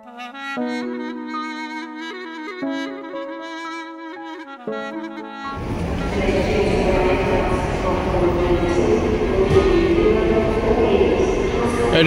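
A train runs at Edinburgh railway station, its broad rumbling rail noise rising after a stretch of tonal chimes or announcement melody, then continuing loud and steady to the end.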